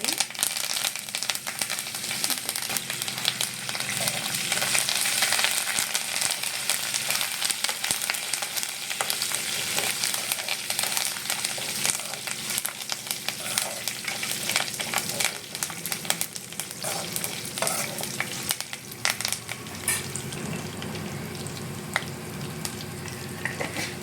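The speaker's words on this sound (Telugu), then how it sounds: "పప్పు కూడా వేగడానికి వచ్చిందండి వేపుకోవాలి పప్పు కూడా మంచిగా వేగితే చాలా బాగుంటుంది" Lentils and curry leaves fry in hot oil for a tempering, giving a dense, continuous sizzle that stays loud and steady throughout, with faint stirring.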